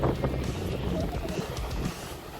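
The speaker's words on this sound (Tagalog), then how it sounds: "Ang lakas ng hangin ngayong panahon na to" Steady roaring wind buffets the microphone, a constant low rumble throughout with faint voices under it.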